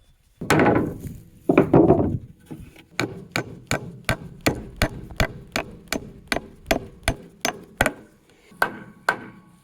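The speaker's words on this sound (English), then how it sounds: "let's get some more nails in there and then do that side" Hammer blows drive nails into a thick wooden board for a homemade post hole auger stand, a steady run of about fifteen sharp, close whacks after a couple of heavier, longer knocks.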